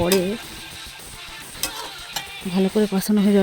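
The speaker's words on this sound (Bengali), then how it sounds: "তো সব দিয়ে ভালো করে কষিয়ে নিচ্ছি আমি" Chickpea curry masala being sautéed in a pan, with a spoon scraping and stirring under a low sizzle; a voice hums or speaks faintly in short bursts toward the end.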